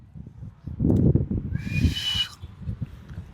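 Muffled breathy noise, then a boy's brief thin whistle wavers for under a second before fading, an attempt that barely sounds a note.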